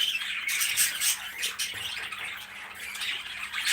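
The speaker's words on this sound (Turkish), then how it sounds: "Biraz da sultan papağanlarımızı çekelim." Nearby cockatiels give repeated harsh squawks in quick succession, loud and continuous over a few seconds, with no people talking.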